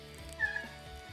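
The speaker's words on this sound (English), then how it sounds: "oh, here comes the cat" A house cat gives a single short meow, faint and brief, under a steady background hum in an indoor room.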